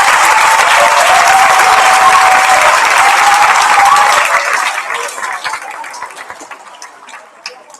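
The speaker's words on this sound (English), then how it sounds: "A round of applause for Year 9" Audience applause at a secondary school prizegiving for Year 9 students, a loud, steady wash of many clapping hands that holds for about four seconds, then fades into scattered, dwindling claps.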